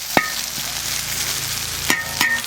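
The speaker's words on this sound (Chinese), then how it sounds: "大葱， 给它炒一下啊。" Scallions being stir-fried in a wok as part of a spicy beef tripe dish, giving a steady background sizzle with a few sharp clanks of a spatula against the pan near the start and end.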